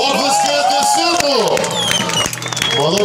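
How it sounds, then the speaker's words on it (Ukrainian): A crowd at the final of a varenyky eating contest in Odesa on Ukrainian Independence Day claps and cheers throughout, a dense wash of applause mixed with voices and someone talking over it. "Оплески сину!"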